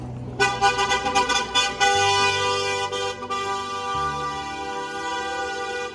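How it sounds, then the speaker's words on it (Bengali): A car horn blares in a long, loud sequence of honks, some short and choppy, then one sustained blast, over steady traffic rumble in Garmisch, Germany. "এই যে গাড়িটা হর্ন বাজাতে বাজাতে গেল"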